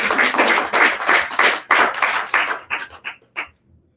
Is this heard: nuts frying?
no